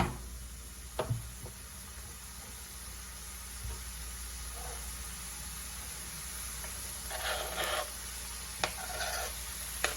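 Onion added to a frying pan after draining the grease from browned meat, a low steady sizzle with a couple of knocks and bursts of stirring scrapes.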